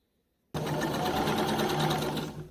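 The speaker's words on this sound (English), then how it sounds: "you're going to stitch it shut like that along that seam line in here" A sewing machine runs steadily for about two seconds as it stitches a seam on a sleeveless crop top, loud and close after a moment of silence.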